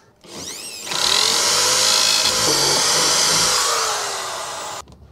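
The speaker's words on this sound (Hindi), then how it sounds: "यहीं पे हो जाएगा ड्रिल" A power drill whines up to a loud, steady high-pitched spin for about four seconds while drilling a dashboard panel in a Renault Kwid, then cuts off abruptly.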